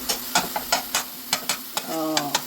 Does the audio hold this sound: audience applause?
no